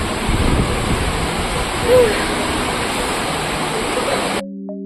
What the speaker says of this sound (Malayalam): ഓ ഭയങ്കര മഴയും കാറ്റും.